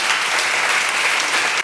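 A church congregation applauds during a sermon, producing a dense, loud burst of many hands clapping together that continues evenly and then cuts off abruptly.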